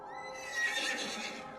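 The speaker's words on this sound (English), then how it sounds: "We can pet the horse!" A horse in the video game The Séance of Blake Manor gives one clear, close whinny as it is petted, rising and wavering over about a second, with no talking.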